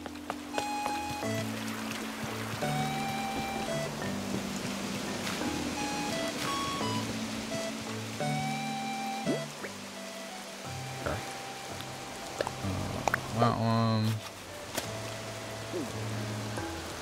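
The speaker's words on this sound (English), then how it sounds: "At least it's raining, so these will all get watered." Steady rain patters over a constant hiss in the video game Animal Crossing: New Horizons, with soft tonal notes and a brief rising chime partway through.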